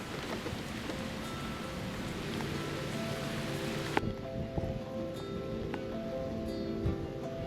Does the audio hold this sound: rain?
yes